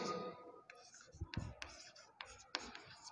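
Marker strokes on a board during a chemistry class, several short scratchy bursts with pauses between them, close and fairly quiet, with faint speech-like sounds at the start.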